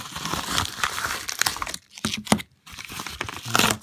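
Packaging being torn open to reach trading cards, with close, loud crinkling and tearing in bursts, a brief lull in the middle and another rustle at the end.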